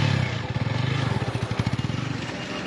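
A motorbike engine idles and revs close by with a rapid, pulsing putter that rises and steadies.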